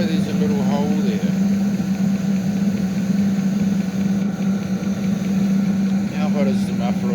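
A 5-8kW diesel heater running in cold weather, its steady droning hum loud and continuous throughout, with people talking intermittently over it.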